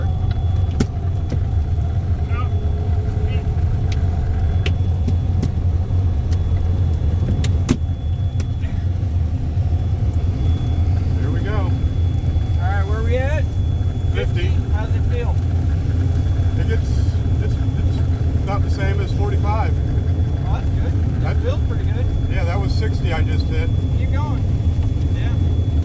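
A converted private jet turned RV driving at speed above 45 miles an hour, a loud, steady road rumble and engine drone throughout, with people talking over it.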